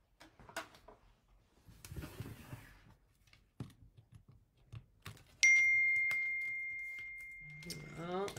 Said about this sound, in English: Oh, I forgot to turn my phone off.